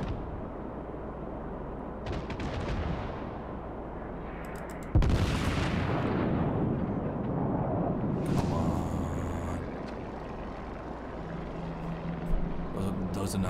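The main guns of the American battleship New Mexico fire in the naval video game World of Warships, a sharp, loud blast around the middle followed by rumbling decay, over ongoing game ambience with other distant booms and clicks.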